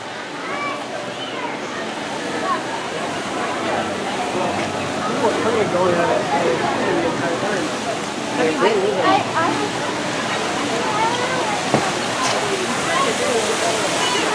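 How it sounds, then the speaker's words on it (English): Fountains at Lagoon amusement park in Farmington, Utah: a steady rush and splash of falling water heard outdoors, with people talking and crowd murmur throughout. "look at some of those fountains"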